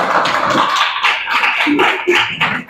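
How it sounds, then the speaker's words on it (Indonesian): Students clapping hands together in a classroom, a steady run of close, brisk claps filling the whole moment. "tepuk tangan"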